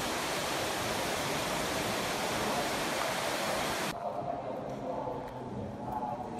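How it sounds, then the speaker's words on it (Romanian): Water gushes out of the mountain rock at Cheile Tătarului with a loud, dense, steady roar. It drops abruptly to a softer, thinner rush partway through. "Apa țâșnește din munte"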